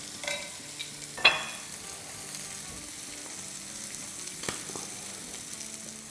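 Bay leaf, cloves, fenugreek seeds, a small piece of cinnamon and four dried red chillies frying in hot oil over a medium-high flame, a soft steady sizzle with a sharp stirring clatter near the start and a few faint scrapes later.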